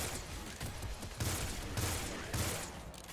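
Micro missiles fire in rapid bursts in the video game Nuclear Throne, a dense layered barrage of electronic shots and blasts with repeated punchy hits over continuous game noise, loud and steady throughout.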